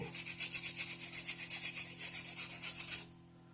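A brush scrubs rapidly back and forth over a handmade birthday greeting card, a steady rhythmic rubbing close up that runs for about three seconds and then stops abruptly.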